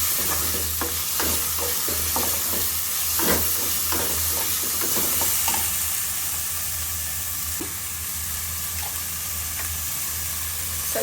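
Tomatoes and vegetables frying in a pan: a loud, dense sizzle and hiss runs throughout, with repeated scraping strokes from stirring near the start, close up and without talking.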